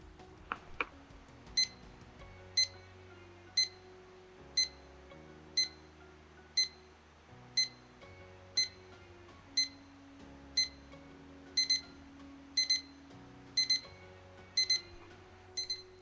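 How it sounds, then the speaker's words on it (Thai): An iamclock IMC1009D LED wall clock alarm beeps in short, evenly spaced bursts, high and clear against a quiet room, repeating steadily for the whole stretch. "เดี๋ยวจะมาฟังเสียงปลุกกันกันนะครับ"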